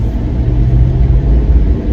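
Steady low rumble of a truck cruising along the road on the way to Ocala National Forest, heard from inside the cab as a continuous loud drone with no talk.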